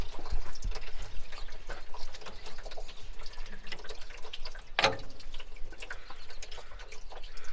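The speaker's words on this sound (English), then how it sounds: "Take the radiator cap off, Bobo, it'll drain quicker" Coolant drains from a car radiator with the cap off, a steady trickling, splashing flow of liquid that runs throughout at moderate loudness, with one brief higher squeak partway through and no talking.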